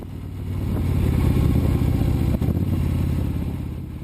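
A Moto Guzzi motorcycle cruises quiet back roads through the lake country of eastern Ontario in autumn, its engine a loud, steady, rumbling drone with some mechanical clatter and wind, holding an even pace throughout.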